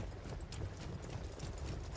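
Steady hoof clip-clop with faint metallic clanging from an armoured cavalry horse in a video game, continuous and moderately close over a dense background.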